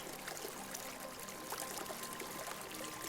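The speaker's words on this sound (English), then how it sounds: "shift the awareness from the breath to the sound of the river, the flowing water" A river flows steadily with broadband rushing and trickling water, soft and continuous throughout, with no other distinct sounds on top.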